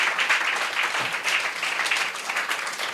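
A church congregation claps loudly together in praise of God, a dense, steady wash of applause filling the room for the whole stretch, with no voices standing out.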